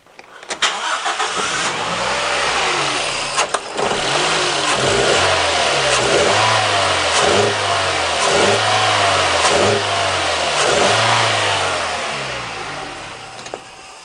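A Toyota Echo with a hesitation under acceleration starts up and settles, then its engine is revved in a steady series of rising and falling pulses, loud and close with no talking.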